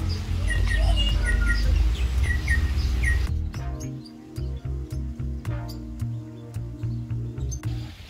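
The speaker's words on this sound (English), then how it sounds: "here's a sulfur-crested cockatoo" Bird calls in an aviary where a sulfur-crested cockatoo is kept, with repeated short chirps over a loud steady background, then a series of sharp clicks and knocks once the background drops away.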